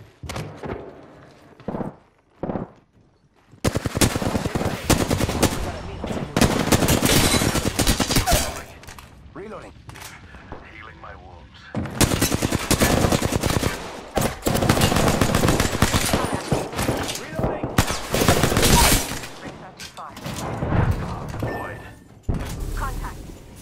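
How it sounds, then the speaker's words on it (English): Gunfire in an Apex Legends match: long sustained bursts of automatic weapon fire, loud and close, with brief pauses between volleys and a player's voice talking over it. "They spotted me. I'm taking shots."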